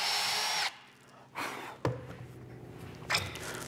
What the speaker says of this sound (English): Then I go back, drill it, drill, drill, drill